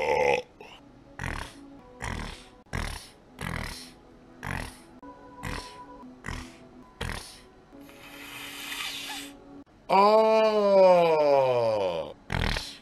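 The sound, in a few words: burp, belch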